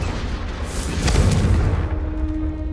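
A Confringo fire spell bursts in Hogwarts Legacy, a deep booming blast that swells midway and rolls off with crackling debris, loud and alone with no talk.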